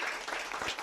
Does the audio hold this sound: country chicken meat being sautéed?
no